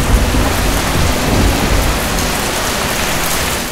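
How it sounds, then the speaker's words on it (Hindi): Heavy rain pours down in a dense, loud, continuous hiss, with a low thunder rumble swelling near the start, and no voices. "तभी अचानक भारी बारिश शुरू हुई।"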